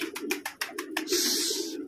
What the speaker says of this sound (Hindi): देखिए ये आया वो कबूतर